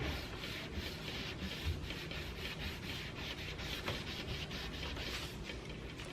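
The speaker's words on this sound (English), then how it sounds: "on a dry spot of my rag, I'm going to wipe it again." A rag is rubbed over a chalk painted farmhouse hutch to wipe black wax, a close, continuous dry rubbing in quick, even back-and-forth strokes.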